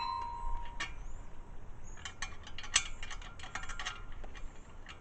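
Plastic garden hose repair connector being loosened by hand, giving faint, close clicking and ratcheting plastic ticks in irregular bursts over quiet background hiss.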